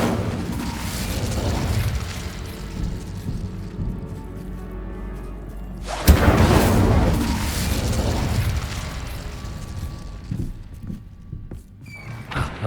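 An Incendio fire spell in Hogwarts Legacy erupts with a sudden loud whoosh and boom midway, a roaring burst that trails into a sustained rumble over game ambience and low mechanical sounds.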